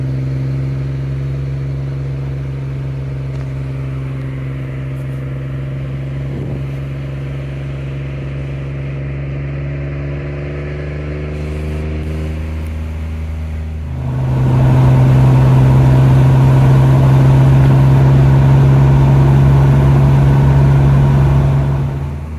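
A 320,000-mile BMW E28 M5 on back roads, its engine humming steadily inside the cabin with gear changes, then a louder, stronger droning pull as it climbs under load.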